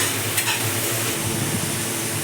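Ginger-garlic paste frying in a pan and stirred continuously, a dense close sizzle with soft scraping strokes running throughout.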